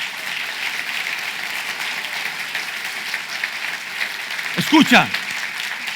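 A church congregation claps during a sermon, a broad steady patter of applause filling the room, with a voice speaking briefly over it near the end.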